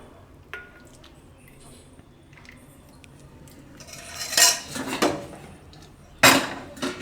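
A metal spoon scrapes and clinks against a pot and plate while dal palak sambar is served onto rice, with a few bright clanks near the end after quieter rustling.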